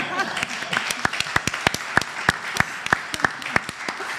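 A few people clap during an online panel Q&A session, with distinct, evenly spaced claps in a sparse rhythm over a light background, and some voices faintly present.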